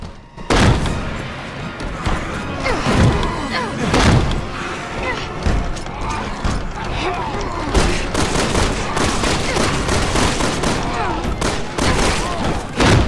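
Pistol gunfire in Resident Evil 6, Leon's mission, with repeated loud shots and impacts arriving in dense, irregular bursts over a continuous, busy game soundtrack throughout.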